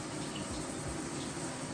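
Tap water runs steadily into a sink to thaw a frozen cucumber, a soft continuous hiss and low gurgle that sits close and even for under two seconds.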